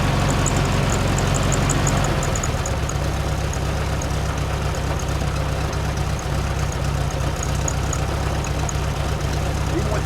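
Volkswagen Super Beetle air-cooled engine idling on a cool morning, a steady loud low chugging rumble with even rhythm throughout, close by and without pauses.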